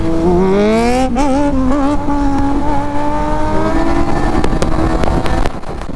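A KTM Duke 390 motorcycle engine revs loudly and continuously, pitch climbing and wavering as it accelerates into a wheelie, with sharp clicks near the end.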